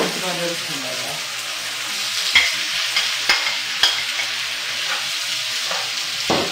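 Sliced garaetteok rice cakes and vegetables stir-fry in a hot pan, a soft continuous sizzle broken by several sharp scraping and clacking strikes of a spatula against the pan.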